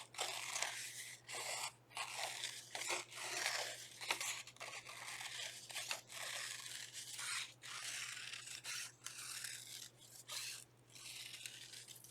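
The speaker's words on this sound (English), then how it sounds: "I'm going to cut this into a spiral." Scissors snipping a long blue piece of paper into a spiral, a close, repeated series of crisp cutting and crunching strokes in uneven rhythm, with short pauses between cuts.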